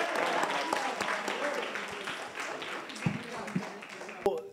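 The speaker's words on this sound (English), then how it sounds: "Let's clap for them." Audience clapping for teams at a high school trivia final, a lively wave of applause that fades and thins, with a few scattered claps and voices mixed in.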